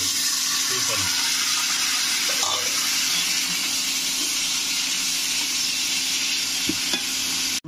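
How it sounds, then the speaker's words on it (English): Water is poured into a pan of broad beans curry cooking with mustard seeds, urad dal and curry leaves, a steady hissing sizzle that continues throughout, close and fairly loud. "adding little water to cook fast."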